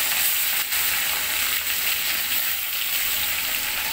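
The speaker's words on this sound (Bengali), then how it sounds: "এখন আমি ভেজে নেব। এটা কড়াইতে দিয়ে দিলাম।" Spiced fish tails rubbed with turmeric and chilli frying in a wok, a loud, dense, continuous sizzle heard close up, steady throughout with no talk.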